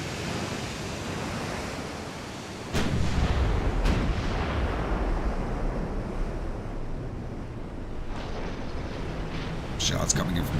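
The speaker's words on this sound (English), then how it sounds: "Shots coming in from the heavy cruisers." Heavy cruiser shells land in a naval battle in Ultimate Admiral: Dreadnoughts, with two sharp booms rising over a steady roar of sea and wind, followed by further crackling impacts near the end.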